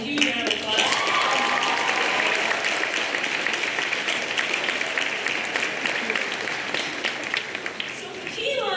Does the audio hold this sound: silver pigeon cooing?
no